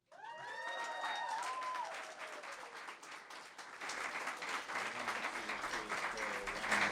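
Audience applause at a university film festival awards night, steady crowd clapping that swells and continues throughout, with whistles and brief voices or tones mixed in near the start.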